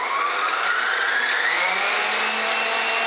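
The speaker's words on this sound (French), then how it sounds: "Et on recommence à battre à fond pour que tout soit bien mélangé." An electric mixer beats cream at full speed for chantilly, a steady close whirring drone with a slowly rising motor pitch that holds loud and unbroken throughout, with no voices.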